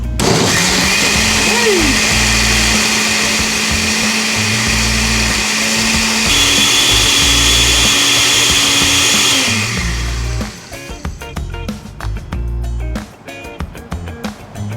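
A blender whirs loudly at a steady pitch for about ten seconds while blending a thin sauce for beef barbacoa, then stops, leaving clattering and handling noises.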